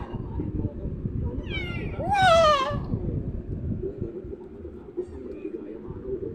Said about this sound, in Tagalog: pusang pasaway ito.